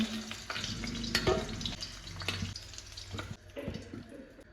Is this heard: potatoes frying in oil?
yes